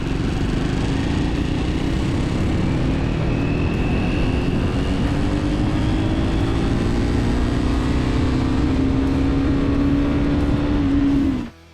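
A Yezdi Adventure motorcycle accelerates hard in fourth gear from 40 to 80, its engine note rising steadily and loudly for about eleven seconds before cutting off abruptly, with wind rush throughout.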